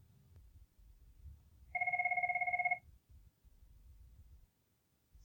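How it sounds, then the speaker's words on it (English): A telephone rings in one clear electronic burst of rapid trilling tones lasting about a second, loud over faint background rustling in an indoor room. "my phone's ringing off the hook"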